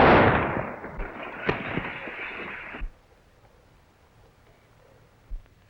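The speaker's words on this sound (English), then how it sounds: "Shoot the gun out of his hand" Gunfire in a western film shootout, opening with a loud, booming blast that rolls away, then a couple of sharper shots, and after a short quiet pause one more distant bang.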